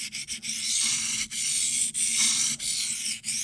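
Spyderco folding knife blade stroked across a sharpening stone, a rough rasping scrape repeated in quick back-and-forth passes separated by brief pauses, close and clear with no talking.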